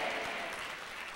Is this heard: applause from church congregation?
yes